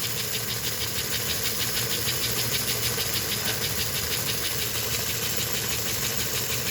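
A model train locomotive's motor runs steadily with a continuous whirring hum and rapid rhythmic clicking, close and even throughout, with no talk.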